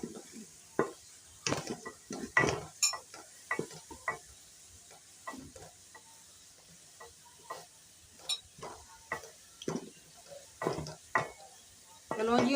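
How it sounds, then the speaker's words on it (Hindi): Sharp, irregular pops and crackles of fenugreek and nigella seeds frying in hot oil for a potato curry, close and fairly quiet, with scattered clicks from a utensil and no talking. "अब हम इसमें भून लेंगे मेथी दाना,"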